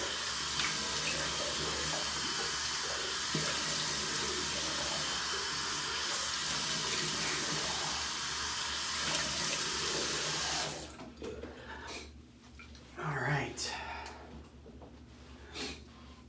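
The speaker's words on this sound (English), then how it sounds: "let's just go ahead and splash some water on my face" A running bathroom tap pours steadily into a sink for several seconds, then shuts off, leaving soft splashes and drips as water is splashed onto a face before a shave.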